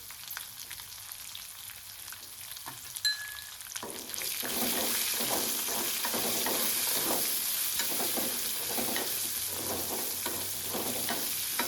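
Onion frying in a hot oil tempering for churumuri, a steady loud sizzle that swells after a few seconds and carries on continuously, with spatula stirring scrapes throughout and no talking.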